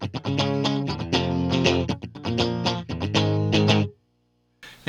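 Electric guitar plays the clean intro riff before distortion is switched on: rhythmic, choppy strummed chords, close and steady for about four seconds, then cut off into silence. No one speaks.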